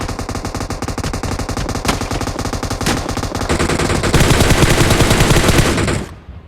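Sustained automatic gunfire in the mobile battle royale game BGMI during a tournament match, loud and dense continuous bursts for several seconds that intensify before stopping abruptly.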